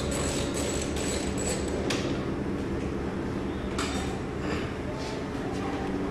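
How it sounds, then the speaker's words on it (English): Rapid mechanical clicking and clattering from a ratchet working out screws during a GlidePro neck bearing install, continuous and close with a few sharper metallic knocks. "Get all the other screws out."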